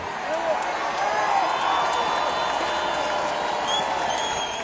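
A vast crowd gathered outside Parliament cheers and applauds at Brexit news, a dense continuous wash of clapping and shouts heard from within or near the throng, steady for the whole stretch.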